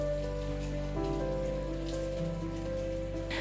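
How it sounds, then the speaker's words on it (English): Sudden rain falls on a villa in Sanxing, Yilan, a steady close patter of drops on surfaces running throughout with a constant low hum and tonal background beneath it. "a sudden rain has made the whole villa even more picturesque"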